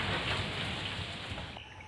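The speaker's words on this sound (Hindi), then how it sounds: "इतना हवा चल रहा है, इतना बादल गरज रहे, बारिश गिर रही" Heavy rain pours down steadily with wind, a dense close hiss filling the scene during a storm with thunder, the downpour easing slightly toward the end, with no talking.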